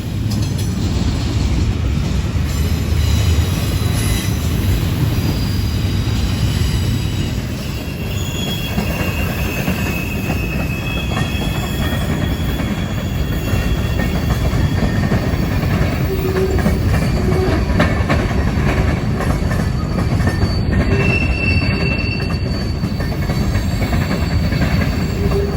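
A coal train rolls past near Peabody Energy's loading site in Southwest Indiana, a loud continuous rumble of railcars with steady clickety-clack and high, drawn-out wheel squeals rising over it throughout.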